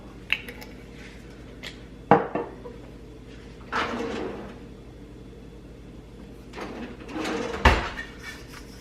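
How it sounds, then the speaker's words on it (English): Someone cleans a mixing bowl after making pizza dough in a kitchen, with scattered clinks, knocks and scraping of utensils against the bowl, sharp clatters standing out amid quieter rubbing. "let me go ahead and clean my bowl"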